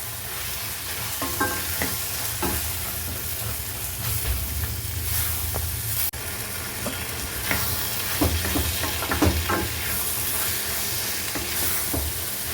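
A tamarind, onion and chili mixture reduces in a pan with a steady sizzle and bubbling hiss, while a spoon scrapes and clicks against the pan in irregular stirring strokes.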